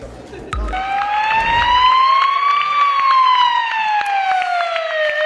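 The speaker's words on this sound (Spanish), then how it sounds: "Con el sonido de las sirenas de sus coches" Several fire engine sirens wail, rising and falling steadily and layered together, with a faint murmur of voices at the start.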